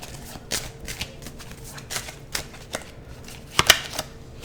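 An Into It Tarot card deck is shuffled close up, giving a series of crisp riffling bursts and soft taps that build to a sharp flurry near the end.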